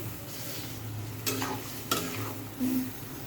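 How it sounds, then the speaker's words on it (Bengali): Shukto vegetables stirred in a pan, a quiet steady sizzle with a few sharp scrapes and clinks of a spatula against the metal, no talking. "আবার ভালো করে নাড়াচাড়া করে নেবে"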